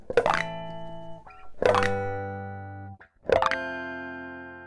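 Three separate electric guitar notes ring out, each one sharp at the attack, with high whistling pinched harmonics sustaining and slowly fading.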